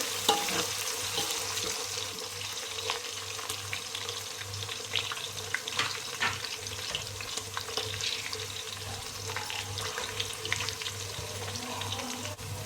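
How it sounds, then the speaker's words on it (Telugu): Onions, green chillies and spices fry in oil for a mutton biryani, giving a continuous close sizzle with scattered clinks and stirring, and a low steady hum beneath, no talking. "ఇవన్నీ వేసుకొని ఎర్రగా వేయించుకోవాలి."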